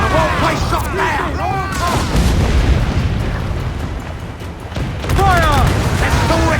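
Booming cannon fire and explosions roar through a naval battle in Assassin's Creed 4: Black Flag, heavy blasts piling into a continuous rumble while crew voices shout over the din.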